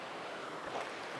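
Cool river water spills over a weir on the lower Geumho River, giving a continuous broadband rushing wash, close and even, with no voices.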